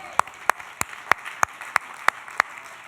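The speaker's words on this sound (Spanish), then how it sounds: "Dale un aplauso al Señor" Slow, evenly spaced claps from a church congregation ring out in a steady rhythm, about three per second, over a soft background murmur of the gathered crowd.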